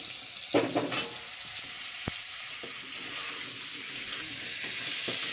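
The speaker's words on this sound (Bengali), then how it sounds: "এবার ওলকপিগুলো দিয়ে দিচ্ছি।" Kohlrabi frying in a pan gives a steady, close sizzle, with a few scraping stir strokes near the start and continuous hiss throughout; no one speaks.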